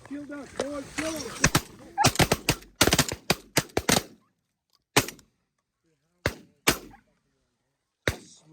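Gunshots ring out during a dry-field duck hunt in North Dakota, first in rapid volleys of sharp, loud cracks, then as scattered single shots with silence between, while voices and calls sound at the start.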